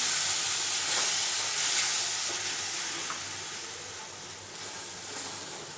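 Spices and onion frying in a pan sizzle in a steady, fairly loud hiss after water is added, with faint stirring. No voices are heard.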